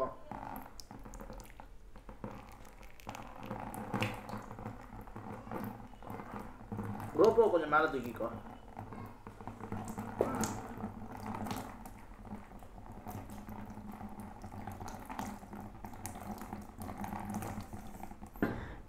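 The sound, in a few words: water poured onto a GoPro Hero 10 action camera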